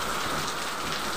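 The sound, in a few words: rain falling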